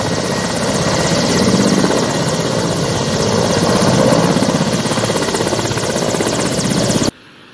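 An Air Force helicopter lands at Rangeilunda airstrip in Ganjam, Odisha. Its loud, steady rotor and engine roar fills the clip and stays unbroken for about seven seconds before cutting off abruptly, with no voices over it.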